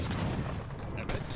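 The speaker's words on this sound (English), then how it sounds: "Cannons!" Cannon and gunfire bursts from an Age of Empires III: Definitive Edition historical battle at Algiers, a dense run of booming shots over continuous battle din, with a voice talking over it.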